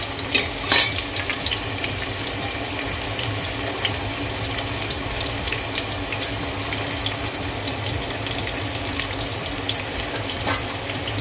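Two medium onions, finely chopped, sautéed in oil in a pan for an Agari-style chicken rassa, giving a steady, moderate sizzle and faint stirring throughout, with a couple of sharper clinks near the start.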